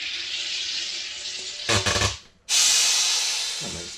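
An Aarke Carbonator 3 charging water with bursts of loud, close gas hiss, a sputtering rush, a brief gap, then a long strong hiss that slowly fades, ending with a low thump.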